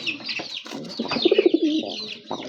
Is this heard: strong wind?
no